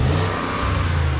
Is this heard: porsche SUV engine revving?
yes